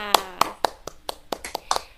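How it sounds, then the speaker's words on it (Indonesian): A class of children clapping together at the end of a lesson, a quick run of about eight sharp, uneven claps, fairly close and clear. "Oke, tepuk tangan untuk kita semua."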